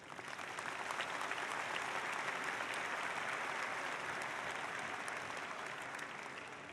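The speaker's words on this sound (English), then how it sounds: "I think that deserves an applause of gratitude." Graduates and guests at a university commencement ceremony applaud, a broad, even wash of clapping from a large hall that holds steady throughout and tapers slightly at the end.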